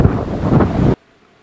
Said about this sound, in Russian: Ветер какой-то разыгрался.